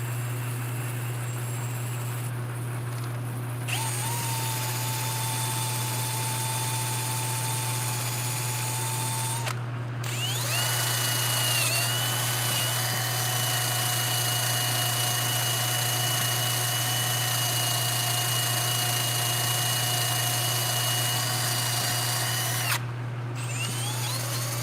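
A metal lathe runs continuously with a steady low motor hum and whining tonal pitches that shift as the spindle speed changes, loud and close with brief pauses.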